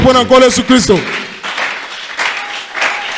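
Applause from a church congregation during a sermon, a brief burst of speech at the start giving way to a sustained wash of clapping that swells and fades across the room.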